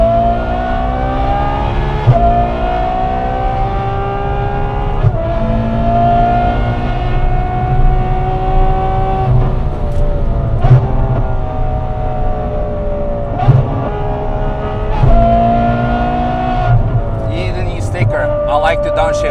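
A Ferrari F12 V12 lapping the Nürburgring, heard from on board: a loud, sustained engine howl rises through the gears, broken by sharp shift blips and downshifts.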